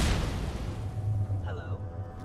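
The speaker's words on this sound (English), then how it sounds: "What was that explosion?" A deep explosion booms in the video game Fallout 4, a loud low rumble that fades over a couple of seconds while a voice speaks briefly near the end.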